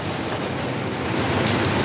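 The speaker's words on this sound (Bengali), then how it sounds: "কি পরিমাণ বৃষ্টি হচ্ছে কাল থেকে, এখন বৃষ্টির পরিমাণটা অনেক বেড়ে গেছে" Heavy rain falls during Typhoon Gaemi in Taiwan, a dense, steady hiss of rain on surfaces, loud and continuous.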